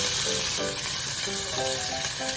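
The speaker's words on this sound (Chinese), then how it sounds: "煎至两面呈金黄" Pork ribs pan-fry in a flat frying pan for a Cantonese dish, giving a close, continuous crackling sizzle throughout, with no talking.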